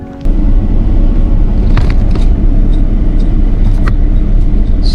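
A camper van pulls out of a car park in Wales with a loud, steady engine rumble and road noise. A few faint clicks and rattles come from inside the cabin.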